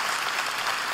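A church congregation applauding, dense continuous clapping from many hands, fairly loud and even with no voices over it.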